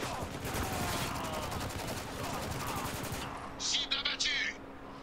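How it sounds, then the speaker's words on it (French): Shotgun fire in the war shooter Spec Ops: The Line: a rough burst of gunfire and combat noise under a faint, continuous game background, followed by a few sharp, higher-pitched clinks near the end. "Ça, c'est un fusil à pompe."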